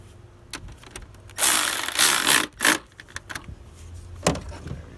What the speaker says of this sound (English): 10mm on a ratchet.